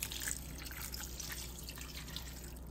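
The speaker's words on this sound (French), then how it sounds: "je vais mettre un verre d'eau, c'est à peu près 150 ml" Water poured from a glass into a pan of minced meat and potatoes, a soft steady trickle and drip sounding close and fairly quiet throughout.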